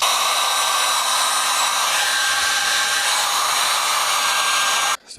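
Heat gun blowing hot air onto dried sealant on the sill of a Mazda MX5, a steady close broadband hiss held for about five seconds before cutting off abruptly at the end.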